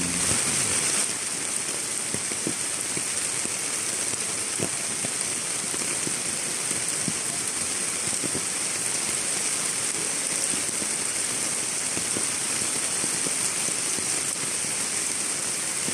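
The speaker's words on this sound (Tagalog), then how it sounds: "Lakas na po ng ulan." Heavy typhoon rain pours down during a flood, a dense, steady hiss of rain on surfaces with scattered drop ticks, loud and continuous throughout.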